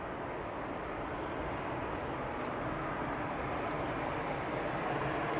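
A Ryanair airliner departs East Midlands Airport, heard as a distant, steady broadband jet roar that swells slightly toward the end, with no talking.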